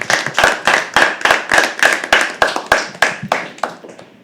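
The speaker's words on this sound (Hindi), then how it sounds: "तालियां तब तक बजती रही जब तक अशरफ स्टेज पे नहीं पहुंच जाते" Rhythmic, evenly spaced claps ring out at a live poetry open mic as a performer walks to the stage, about a dozen sharp beats that fade slightly at the end.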